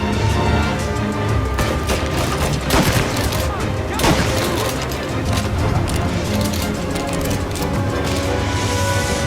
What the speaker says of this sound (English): to create the sense that these are life and death gunfights and that every bullet counts